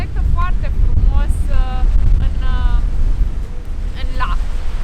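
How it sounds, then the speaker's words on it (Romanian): Strong wind buffets the microphone on the shore of Lake Wanaka, New Zealand, a loud, constant low roar with people talking over it throughout. "Vântul bătea necrezut de tare"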